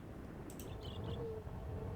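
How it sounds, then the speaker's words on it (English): Birds calling in the island wilderness of the video game Myst, a few short hooting, cooing chirps over a steady low ambient drone. "Oh, birds."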